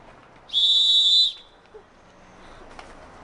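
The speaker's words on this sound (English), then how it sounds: "This is a mountain whistle." A mountain whistle gives one clear, high, steady blast lasting under a second, close and loud, then quiet room tone with a few faint soft knocks.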